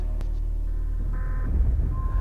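Ballora, an animatronic from FNAF, heard in Garry's Mod: a loud, steady electronic droning tone with layered beeping pitches and a rumbling low end that swells near the end.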